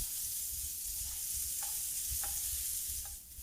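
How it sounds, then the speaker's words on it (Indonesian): Ground spice paste fries in hot cooking oil, making a steady dense sizzle with a few soft spatula scrapes and taps, fairly quiet and close. "Tumis sampai harum"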